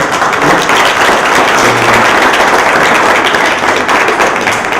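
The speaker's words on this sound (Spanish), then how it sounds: "Pues pedimos un aplauso" A crowd at a workers' self-management gathering applauds, a loud, dense, continuous wash of clapping from many people without pause.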